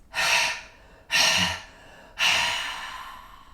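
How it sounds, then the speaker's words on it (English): During a yoga breathing exercise, three strong, close, breathy airflow sounds arrive one after another, each starting sharply and trailing off, with no speech. "Take a slow, deep breath in. And 3 exhales."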